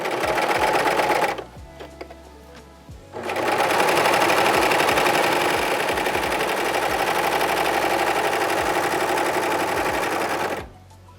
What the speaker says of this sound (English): I'm going to use the 3-thread overlock again